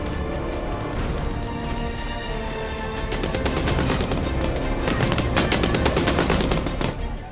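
Gunfire at a protest in Afghanistan, with rapid bursts of shots, dense and loud, that crackle faster toward the end over a constant rough background roar.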